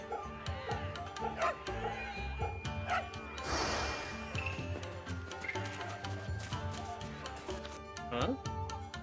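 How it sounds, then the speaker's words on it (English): Dogs bark in the video game Fate/Samurai Remnant, repeated yips and woofs scattered through busy game music and ambient effects, with a voice speaking over parts of it. "I'm so glad all these dogs and cats everywhere are so friendly."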